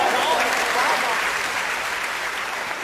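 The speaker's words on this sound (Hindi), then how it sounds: "एक बार तालियां बजाकर बिना भूमिका के जोरदार तालियों से एक बार फिर दोबारा" A crowd claps loudly and steadily at a live Hindi poetry or song gathering, with the dense applause filling the space and gradually easing off, and faint talk mixed into it.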